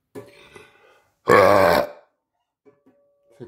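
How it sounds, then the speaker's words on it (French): One long, deep, rumbling burp lasts about half a second, loud and close, between quiet stretches with faint background sound. "tellement roté que ça a monté dans ma gorge"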